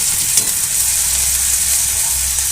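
Grated ginger frying in a pan with already fried onions, a continuous close, loud sizzle with a faint low hiss and an occasional stir.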